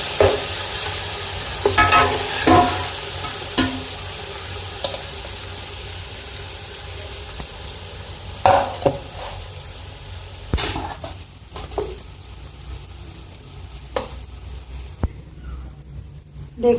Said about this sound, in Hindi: अब हम इसको डिश आउट कर लेते हैं।